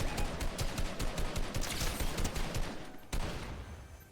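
Rapid bursts of automatic gunfire from a Fortnite match crackle in a dense, loud volley, stopping briefly before one sharp shot restarts the fire, which then tails off.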